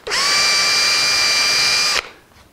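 Power tool whining steadily at high speed for about two seconds, run in reverse against rosewood on a Martin 00-style acoustic guitar, then stopping abruptly.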